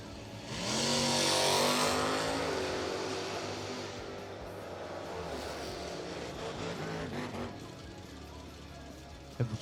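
Door cars launch side by side at a drag strip, two engines roaring loud and then fading as they pull away down the track, with faint crowd noise behind.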